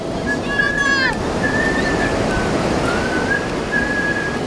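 Waves wash in at a seaside beach as a continuous loud roar of surf, with gusty wind buffeting the microphone and thin whistling tones drifting over the top.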